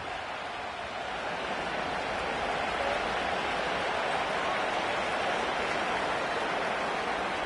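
Steady broadband hiss of rain falling on a football game in Madden, a constant wash filling the whole clip with no distinct breaks.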